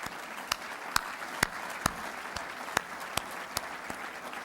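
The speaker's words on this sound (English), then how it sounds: "And I'd like to give both of those corporations a round of applause" Scattered applause at a State of the City speech, fairly faint and distant beneath a steady room hiss, with individual sharp claps punctuating a thin crowd clatter.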